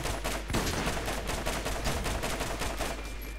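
Dense, continuous automatic gunfire from an intense firefight in the video game Borderlands, rapid shots rattling steadily and loudly with almost no talk.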